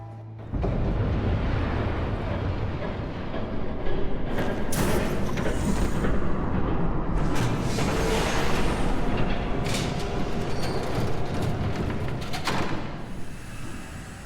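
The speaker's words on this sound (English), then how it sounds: "There's a train coming." A train approaches in the Batman: The Telltale Series video game, a loud, sustained roaring rumble with heavy bursts and clatter that swells and persists before easing slightly at the end.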